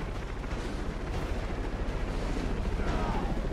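An explosion in the video game Batman Arkham Origins, set in Blackgate Prison, a loud sustained rumbling blast with dense crackling debris that rolls on for several seconds without letting up.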